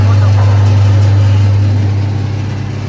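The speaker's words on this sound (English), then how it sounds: "This controls the blade motor." Blade motor of a multi blade slab saw (LS-005) running with a steady low hum and strong constant drone, tapering slightly toward the end.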